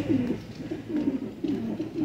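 A pigeon coos while held in a hand during feather plucking, low soft repeated coos running steadily under faint room noise.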